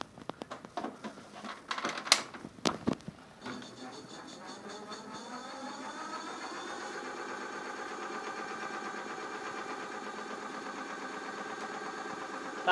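An electric bicycle hub motor with its speed limiter removed spins up after a few clattering knocks, settling into a steady, close, moderately loud whir and hum that holds evenly to the end with no talk.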